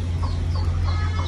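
A hen clucks in soft, short bursts close by, over a steady low hum, with no voices.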